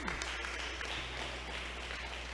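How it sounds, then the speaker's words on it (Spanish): A church congregation applauds for the Lord during a sermon, a soft, steady spread of clapping heard faintly over a low, constant hum in the room. "Vamos a darle un aplauso al Señor"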